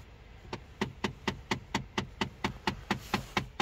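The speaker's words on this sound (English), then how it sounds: "That's just a blend door inside the dash banging around there" A loose blend door inside a car's dashboard knocks in a steady, rapid rhythm of about a dozen sharp taps, close and fairly loud over a faint background hum.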